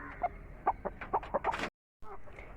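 Chickens clucking close by in a morning coop, a quick run of short clucks and calls, followed by a brief silence and then more faint clucking.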